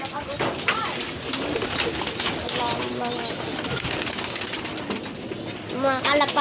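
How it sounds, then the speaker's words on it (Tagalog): A loft of 52 pigeons coos in overlapping low phrases, with bursts of wing flapping and scattered chirps nearby, while people talk intermittently over the birds. "52 lahat ng kanyang mga kalapati."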